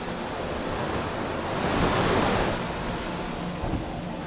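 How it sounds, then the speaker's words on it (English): High-pressure water jets at 160 bar blast mill scale off hot stainless steel before the roughing mill, a steady loud broadband hiss and roar with no talk. "In order to cleanse the surface, water is sprayed at high pressure,"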